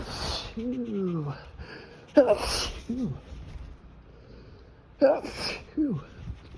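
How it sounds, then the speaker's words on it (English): A person's sneezes, two sharp close bursts a few seconds apart, with breathy sighing and murmured speech between them, triggered by pollen. "I'm gonna sneeze."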